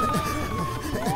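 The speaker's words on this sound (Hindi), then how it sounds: "पुलिस का सायरन सुन के" Police siren in a Hindi cartoon comedy, a wailing tone sweeping up and down steadily through the whole short stretch, loud and close over a busy background.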